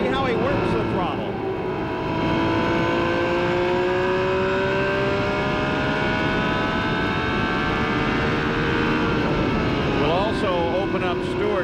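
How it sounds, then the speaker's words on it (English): Menard IndyCar engine heard onboard at Phoenix International Raceway during the 1996 Dura-Lube 200, a loud, continuous close-up drone whose pitch climbs and eases as the driver works the throttle. "You can hear the Menard engine doesn't turn the RPM that the Ford Cosworths turn."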